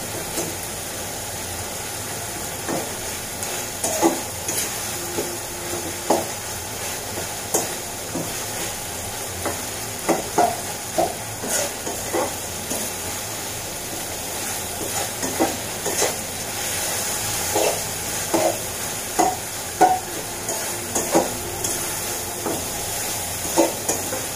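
Dried fish (shutki) is cooked bhuna-style in a pan, Cox's Bazar hotel fashion. A constant close sizzle is punctuated by repeated sharp scrapes and knocks of a stirring spoon over a long stretch, with no speech.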